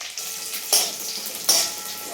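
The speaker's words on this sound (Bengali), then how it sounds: "কাজু কিশমিশ, চিনে বাদাম, তেজপাতা, গরম মশলা, গোটা গরম মশলা ঘিয়ের মধ্যে দিয়ে নিল।" Cashews, raisins, peanuts, bay leaves and whole garam masala fry in hot ghee, a loud continuous close sizzle with two sharp spattering bursts of oil and a light clink of a utensil.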